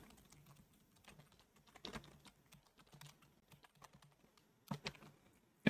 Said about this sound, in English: And you'll type in the question.